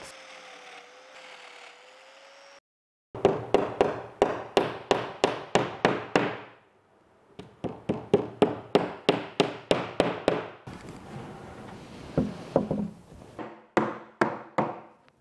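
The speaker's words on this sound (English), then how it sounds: "I'm only screwing these in just for time." Screws driven into an OSB cabinet for a miter saw station, heard as rapid bursts of loud, close impact-driver clatter in rhythmic runs, a short hum before them and brief pauses between groups.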